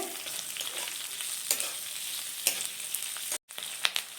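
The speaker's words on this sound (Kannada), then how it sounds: "ಇದು ತುಂಬ ಫ್ರೈ ಮಾಡಬಾರ್ದು, ಸ್ವಲ್ಪ ಫ್ರೈ ಆದರೆ ಸಾಕು. ನೋಡಿ, ಸಾಕು. ಇದ್ರ ಜೊತೆಗೆ ನಾನು ಕ್ಯಾಪ್ಸಿಕಮ್ ಹಾಕ್ತೀನಿ." Baby corn and capsicum fry in a pan with a steady broadband sizzle, a few sharper crackles and stirring scrapes standing out, one brief dropout near the end.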